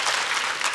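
A church congregation applauds during a sermon at Manna Church, a steady, dense wash of clapping from many hands that fills the whole moment without any voice over it.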